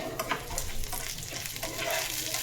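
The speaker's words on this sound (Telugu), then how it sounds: "ఎండుమిరపకాయలు కూడా మాడిపోకుండా జాగ్రత్తగా కలిపెట్టుకుంటా వేసుకోండి." Dried red chillies, cut in half, fry in about two spoons of oil while being stirred steadily in a pan, giving a continuous close crackling sizzle with scraping stir strokes throughout.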